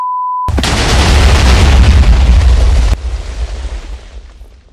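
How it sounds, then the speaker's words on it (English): A huge pile of TNT, over three stacks, detonates in Minecraft with the Cobblemon mod, giving one loud, sustained roaring blast that drops abruptly after a few seconds into a fading rumble. "that was the lamest explosion I think I've ever witnessed"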